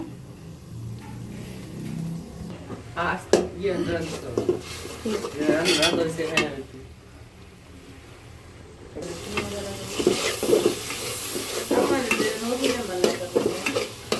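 Spices and shrimp are stir-fried together in a pan in a home kitchen, sizzling with repeated metal spatula scrapes and clanks against the pan, close and uneven, with a quieter lull before the stirring picks up again.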